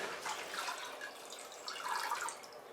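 Water drips and trickles off a mop being wrung in the drying slot of a Bosheng mop bucket, a soft, close splashing patter that fades and returns over a few seconds.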